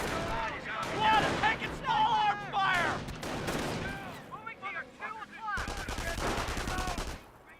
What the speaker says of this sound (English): Sniper firing against the rifle squad.